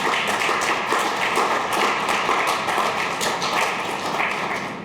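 Audience applause at a Nashville Transit Equity Day event honoring the city's first female bus driver: dense, steady clapping from many hands, fairly close and sustained across the whole span with no voices over it.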